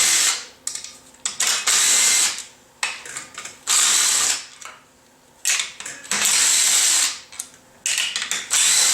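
A power tool backs out clutch cover bolts on a Honda CRF450 motorcycle, whirring loudly in repeated short bursts of a second or two each with brief pauses between bolts, close up and without talk.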